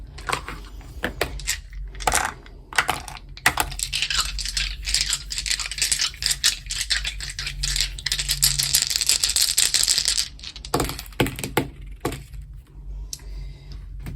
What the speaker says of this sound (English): Those are the Voyagers dice. We're rolling 5 of them for you.